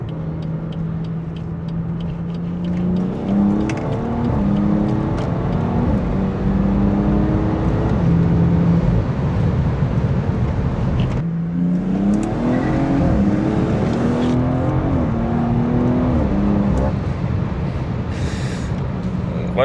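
A BMW F30 sedan pulls hard from the driver's seat, its engine note climbing steadily, dropping at each gear change and climbing again, loud and continuous, with a brief cut midway.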